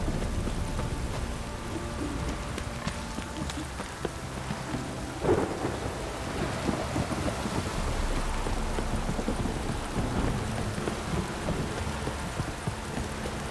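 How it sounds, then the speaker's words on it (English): Steady rain and low rolling thunder from The Witcher 3 video game fill the scene, a constant dense patter with deep rumbles building and fading over time, no voices. "If it don't stop raining, my arse will rot off."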